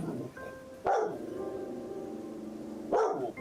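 A dog in the Rimworld video game barks twice, short and fairly close, with a steady tonal background hum in between.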